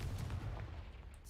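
A Confringo blast spell goes off in the Hogwarts Legacy video game, giving a single faint, muffled low boom that rumbles briefly and fades.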